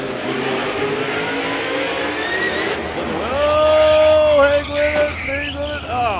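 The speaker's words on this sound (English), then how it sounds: "He's in his Dag Pak Challenger, and Welch, let's just say he goes for a bit of a ride on this one." A Dodge Challenger Drag Pak car at an NMCA factory super car drag race roars loudly, its engine pitch sweeping and wavering before cutting out, amid a noisy track atmosphere.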